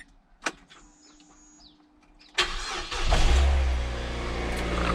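A Mazda MX-5 Miata NC, just fitted with a new fuel pump, cranks and fires up: a few faint clicks and a whirring prime, then a loud starter catch and a rising engine roar settling into a steady, close idle.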